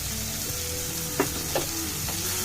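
Turmeric and a quarter spoon of chili powder fry in a pan for Telugu-style methi dal, giving a steady soft sizzle with a few faint stirring clicks, close and alone.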